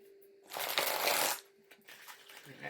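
Tarot cards are shuffled in one quiet, crisp burst of riffling that lasts under a second, followed by softer rustling and handling in a hushed room with a faint steady hum.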